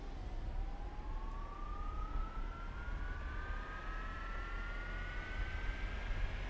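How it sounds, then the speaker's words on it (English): Boeing 737NG jet engines spooling up in the X-Plane 12 flight simulator, a steady rising whine climbing slowly in pitch over a constant roar, loud and continuous with no talking. "Engines are starting now"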